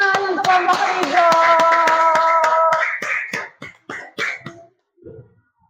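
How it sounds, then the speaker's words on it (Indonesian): Classroom of children giving a student group a round of rhythmic, patterned claps, loud and close, first under a sung chant of voices, then thinning into scattered separate claps before a final murmur. "Berikan tepuk tangan untuk kelompok Rigo."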